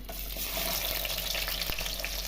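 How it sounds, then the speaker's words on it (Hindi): Onions fry in oil with a steady, dense sizzle that holds at an even level throughout, broken by one brief sharp click near the end and no voices. "ऑयल में हम प्याज फ्राई कर रहे हैं।"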